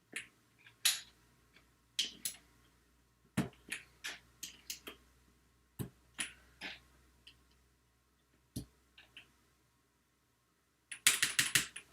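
Clicky keystrokes on a keyboard built from Lego bricks, sharp taps arriving in uneven clusters with short pauses, ending in a rapid burst of presses; close and crisp with no talking.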